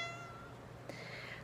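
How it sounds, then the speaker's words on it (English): A pet cat gives a faint, short indoor meow over a steady low room hum, followed by a second soft call, with no one talking. "my cat is saying good morning."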